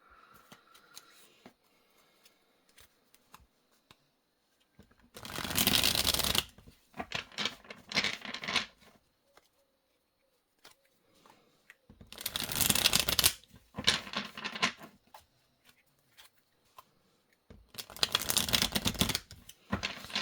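Tarot cards are shuffled and drawn in three separate bursts of quick riffling and flicking, close and fairly loud, with near-silence between them and no talking.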